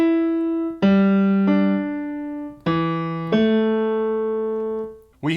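Two pairs of sustained tones sound one after the other, each note clean and harmonic-rich, forming a melodic interval played twice, close and clear with no voices.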